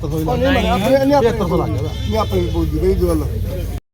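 Goats bleat loudly and close by at a busy goat market in a Punjab village, wavering cries overlapping with people talking nearby.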